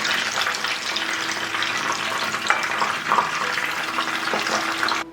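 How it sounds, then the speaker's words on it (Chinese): Stuffed eggplant boxes deep-fry in oil over the lowest heat, a steady bubbling sizzle close up with occasional louder pops and crackles and no talking. "多翻动几次，把茄盒炸到2面金黄"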